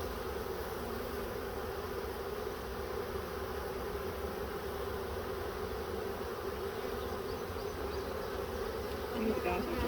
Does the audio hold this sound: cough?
no